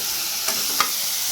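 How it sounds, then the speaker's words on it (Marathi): French beans frying in a pan at home give off a steady close sizzle, with two brief louder pops or stirs breaking through; no one speaks. "इकडे आपली आई जेवण बनवते"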